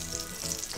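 Chunk of meat searing in hot oil for a curry, a steady close sizzle and crackle of frying that holds evenly throughout without any talk.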